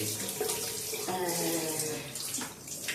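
Tap water runs steadily and splashes close by while a dog is being bathed, a continuous watery rush with a light voice briefly heard underneath.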